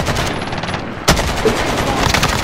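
Rapid automatic gunfire in a video game, a dense burst of shots with a sharp crack near the middle, loud and close, under background game noise without talk.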